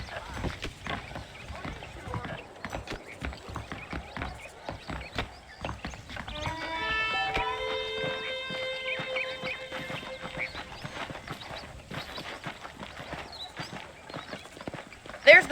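Horses clip-clop steadily in the Red Dead Redemption video game, their hooves sounding close and rhythmic alongside faint game ambience, with a sustained musical tone rising midway.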